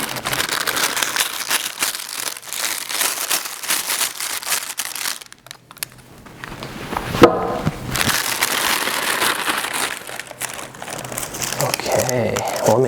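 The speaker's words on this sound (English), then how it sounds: "Let me cut open the plastic." Plastic wrapping around a pair of Bryant Boxing Imperial Texas Rose training gloves being cut open and handled, close crinkling and rustling in bursts around a short pause, with a voice talking.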